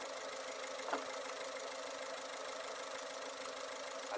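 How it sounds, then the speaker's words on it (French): A car engine idles at a steady, even rhythm while its fuel suction line is checked for air bubbles, a continuous close mechanical hum with one faint knock near the start and no talking. "Là, le ralenti moteur est bien régulier"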